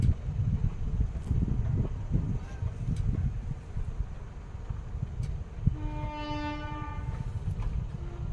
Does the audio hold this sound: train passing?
yes